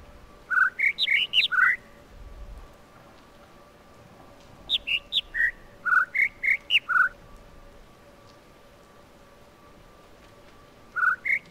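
Birdsong in a puzzle video game: clear, bright chirping phrases repeat in quick clusters separated by pauses, set over a faint steady hum and almost silent otherwise.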